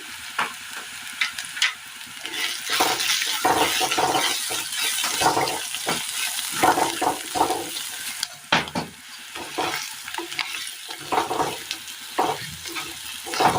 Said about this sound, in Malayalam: ഇതിലേക്ക് നമുക്ക് ഒരൽപ്പം മഞ്ഞൾപ്പൊടി കൂടി ചേർത്ത് കൊടുക്കാം. ശേഷം ഇതിലേക്ക് മല്ലിപ്പൊടി,